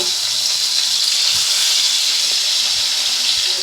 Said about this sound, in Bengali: নিয়েছিলাম মাছগুলো কিন্তু এক একটা করে ভেজে নেব